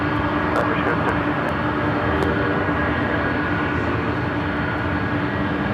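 Airliner jet engines roar steadily during takeoff at Los Angeles International Airport, a broad continuous rumble that stays loud and even throughout, with faint radio chatter in the background.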